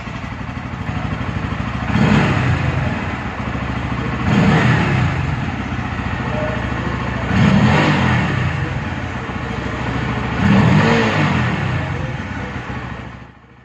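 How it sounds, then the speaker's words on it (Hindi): A 2023 Bajaj Pulsar N160 motorcycle exhaust idles with a steady putter and is revved four times at regular intervals, each rev rising and falling, close and loud. "तो चलिए बाइक का एक बार एग्जॉस्ट आपको सुनाएंगे"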